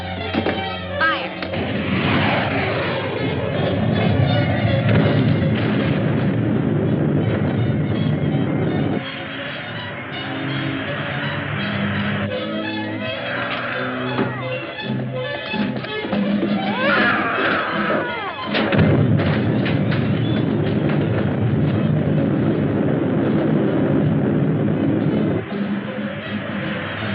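Artillery cannon fire in a 1954 science-fiction film, heard as repeated heavy thuds and rumbling blasts under a dense, continuous wash of crowd-like commotion and mechanical noise, with voices mixed in throughout.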